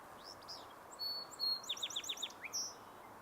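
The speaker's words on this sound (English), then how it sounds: "And the song sparrow." Song sparrow singing outdoors during breeding season, a short phrase of clear whistled notes followed by a quick trill and a closing buzzy note, moderately close over a faint ambient hiss.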